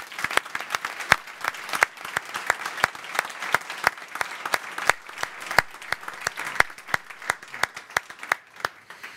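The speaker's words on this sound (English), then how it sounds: "let's give a round of applause to all the helping hands" A modest audience at an innovation center panel event claps for the helpers, giving a sparse round of distinct individual hand claps, crisp and irregular, from a small group rather than a dense roar.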